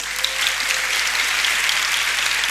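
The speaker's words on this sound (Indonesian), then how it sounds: "Tepuk tangan untuk ini." An audience claps for a child at a Ramadan religious gathering, a dense, even burst of applause heard alone.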